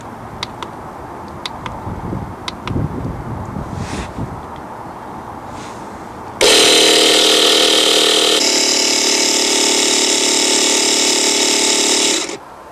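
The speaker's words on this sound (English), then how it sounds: "set the compressor to 15 PSI, switch it on, and build up the pressure in the system" An air compressor set to 15 PSI pressurises a touring caravan's water system during winterising: after a few clicks and handling noises, it starts abruptly with a loud, steady high-pitched buzzing whine that runs for about six seconds, then stops.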